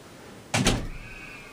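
A noisy door at a conference summit hall opens or closes with a sudden double thump, loud and fairly near, then a faint thin squeal fading out, with no talking.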